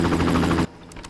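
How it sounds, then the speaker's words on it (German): Helicopter in the video game Far Cry (first game), a loud steady rotor drone with pulsing thump for over half a second before cutting off abruptly to quiet. "Oh, ein Hubschrauber."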